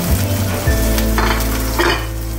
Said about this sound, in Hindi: आप ये देख सकते हैं मैं प्याज फ्राई कर रही हूँ